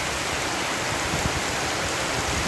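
Steady rain in a rural province, a dense continuous hiss of falling drops on surfaces with no voices.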